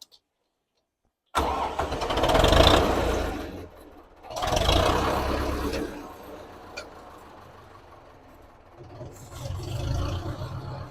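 An aging Mercedes Zetros truck, unused for five years, cranks and fires up after a silent start, its diesel engine roaring loud and close, dipping, surging again, then settling into a rumbling idle.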